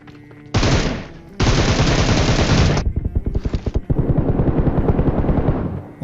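Bursts of loud automatic gunfire crackle in a video game firefight, with several sustained volleys separated by short gaps and a run of distinct rapid shots.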